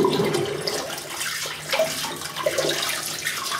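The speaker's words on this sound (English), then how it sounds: "I'll just get rid of this water" Used shaving water is emptied down a sink after a wet shave, gurgling and splashing near the microphone before fading into softer trickles, with no talk.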